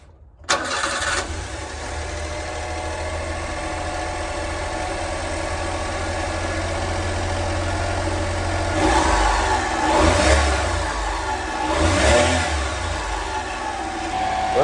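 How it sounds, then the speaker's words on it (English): A Honda Acty fire van's small engine cranks and starts, then settles into a steady, fairly loud idle with a couple of brief revs after a fresh tune-up with new spark plugs, plug wires and distributor parts. "Let's give her a start and make sure everything is hunky-dory."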